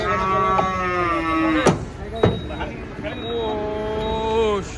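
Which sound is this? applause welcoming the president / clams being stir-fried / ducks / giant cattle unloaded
giant cattle unloaded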